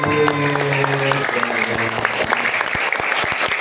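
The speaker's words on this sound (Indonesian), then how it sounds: "Tepuk tangan dulu buat orang tua kita yang hadir hari ini mewakili." Audience applause for parents attending an elementary school Isra Mi'raj commemoration, a steady roar of many hands clapping throughout with sharp individual claps standing out near the end.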